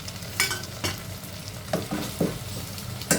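Onions and 1.5 medium tomatoes sauté in a pan for paruppu urundai kuzhambu, a tamarind-based lentil-ball curry, with a steady low sizzle broken by several sharp scraping stirs of a spoon.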